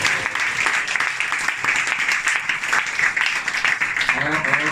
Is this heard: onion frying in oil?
no